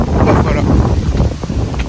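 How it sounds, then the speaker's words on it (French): Strong wind buffets the microphone in a dense, continuous roar with gusty surges. Faint talk can be heard underneath. "Je suis en plein vent et à l'ombre."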